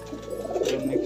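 A single pigeon, one of a high-flying breed, gives a soft, low, rolling coo up close, brief and alone with no talking.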